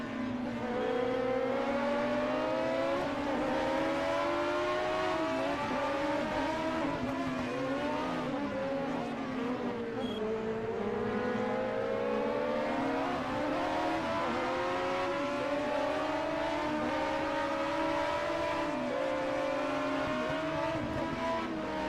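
A Ford Capri Zakspeed Turbo race car engine in a 1978 DRM race at the ADAC-Westfalen-Pokal, a steady, loud engine drone with rising and falling pitch as it revs through gears, running continuously without talk.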